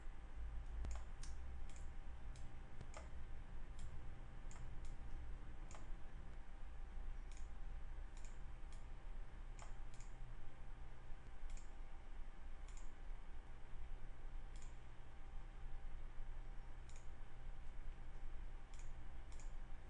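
Computer mouse clicking while selecting array elements in LabVIEW software, a series of light, sharp clicks spaced irregularly over a steady background hiss.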